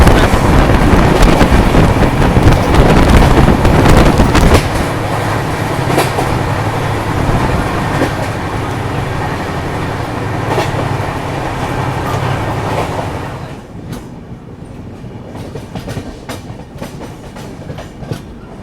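An AP Express passenger train is moving at speed, heard from on board as a loud continuous rumble with rhythmic clickety-clack of wheels over rail joints and wind buffeting, easing and quieting toward the end.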